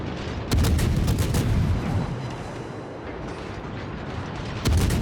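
Naval cannon fire at an enemy ship in a video game, with several heavy booms over a continuous rumbling battle din and another loud blast near the end.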